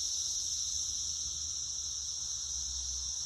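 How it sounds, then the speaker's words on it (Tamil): Cicadas buzzing in a forest, a continuous high-pitched shrill drone that holds steady and fairly loud, with faint low rumble underneath and no voices. "ஆனால் எல்லாம் சில்வண்டு."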